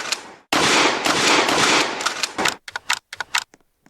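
Shotgun fire in the Roblox game The Streets: a loud, close burst of rapid overlapping blasts gives way to a handful of separate sharp reports, then silence.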